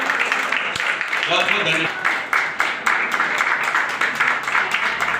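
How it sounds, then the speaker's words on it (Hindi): Audience clapping at a Rashtra Nirman Party political meeting, a steady wash of applause running beneath someone speaking into a microphone. "इधर जोरदार तालियों के साथ उनका अभिनंदन।"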